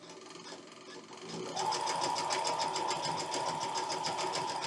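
A sewing machine with a bent needle runs close by, its motor whirring with a rapid mechanical tapping that grows louder and steadier after a quieter start.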